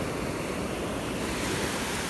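Ocean waves wash onto a beach as a continuous loud roar of surf mixed with wind buffeting the microphone, steady throughout with no talking.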